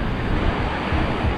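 Atlantic Ocean surf breaking on the sand at Praia Grande on the São Paulo coast, a steady, loud, broadband wash of waves with wind rumble and no voices.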